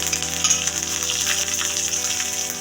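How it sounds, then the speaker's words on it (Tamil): Mustard seeds, urad dal and chana dal sizzle and crackle steadily in hot oil for tempering in a vangi bath preparation, a continuous close frying hiss with faint popping. "கடுகு, உளுந்து, கடலைப்பருப்பு எல்லாத்தையும் போட்டு தாளிச்சுக்கிறோம்"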